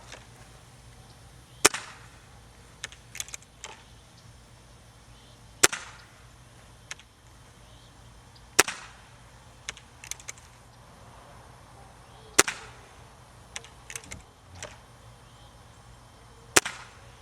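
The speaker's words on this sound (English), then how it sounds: "You notice there's very little noise when this gun fires." A .22 caliber Gamo CSI Whisper special edition air rifle fires Hobby pellets, giving about five sharp, quiet cracks spaced a few seconds apart over a low steady background hum.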